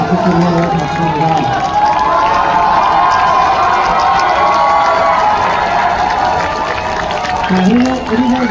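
A large stadium crowd of LG Twins baseball fans in Seoul cheers and applauds at the regular-season first-place celebration, forming a loud, continuous roar with clapping and voices throughout. A voice speaks over the crowd.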